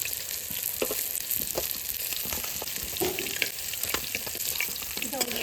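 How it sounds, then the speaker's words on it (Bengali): Fish frying in a pan, a continuous close sizzle and crackle of hot oil with scattered pops and a few light stirring scrapes, no one speaking. "মাছটা সুন্দর করে ভেজে নিচ্ছি লাল লাল করে"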